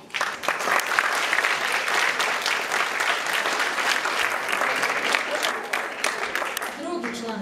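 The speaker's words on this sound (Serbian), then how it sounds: "Molim vas da velikim aplauzom pozdravite gospođu Mirelu Stanojević" Sustained, loud applause from a festival audience welcoming a jury member at a children's music festival, dense clapping that holds steady for several seconds, with a voice briefly audible near the end.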